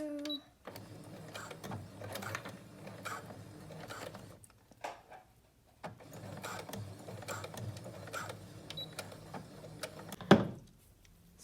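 Sewing machine stitching narrow elastic onto a medical face mask, running in bursts of rapid mechanical clatter with brief pauses and a sharp thunk near the end of the run.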